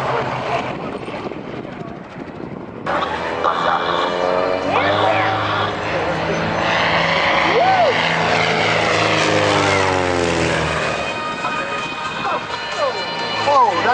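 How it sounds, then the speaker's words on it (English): A Robinson R44 helicopter flies at the Durban Virginia airshow, its engine and rotor droning loud and steady, rising and falling as it passes, with an announcer talking over it throughout. "Robinson R44."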